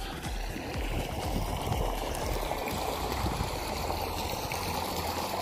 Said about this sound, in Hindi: ये देख रहे हैं बोरिंग का पानी।